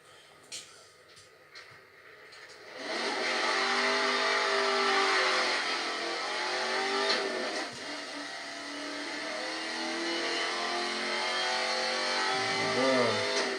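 A Nissan GTR engine in the racing game Need for Speed Most Wanted revs at full throttle, a loud, sustained high roar that rises in pitch after a few quiet seconds and holds steady, with a voice speaking faintly beneath it.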